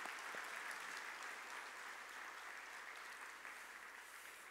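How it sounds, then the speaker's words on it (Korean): A church congregation gives quiet, distant applause during a Sunday service to welcome new members, a soft, even patter of clapping that gradually tapers. "우리 박수로 한번 환영하도록 하겠습니다."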